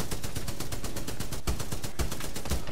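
Rapid automatic gunfire in the video game Titanfall 2, a dense, loud stream of shots with a few heavier reports standing out in the burst.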